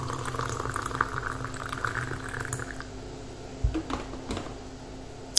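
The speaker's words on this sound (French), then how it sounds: "Donc je rajoute de l'eau chaude." Hot water is poured into a container for a homemade hair lotion, a close, steady liquid rush that thins out, followed by a few light knocks and clinks.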